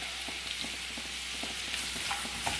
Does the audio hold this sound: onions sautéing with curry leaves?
yes